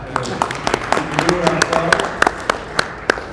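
An audience at a state Libertarian party convention claps, with sharp distinct claps over a crowd murmur and voices talking.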